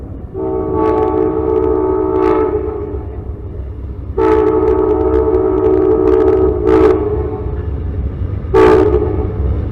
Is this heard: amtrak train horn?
yes